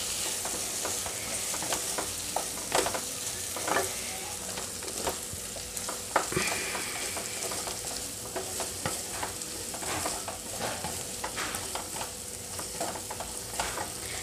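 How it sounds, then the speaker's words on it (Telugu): Stuffed eggplant pieces fry in oil while being turned in the pan, giving a steady close sizzle broken by scraping spatula strokes and soft clacks at irregular intervals, with no talk. "మధ్యలో ఒకసారి అటు ఇటు కదిలిద్దామండి ముక్కల్ని."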